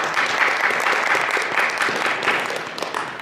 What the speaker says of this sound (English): So you can applaud.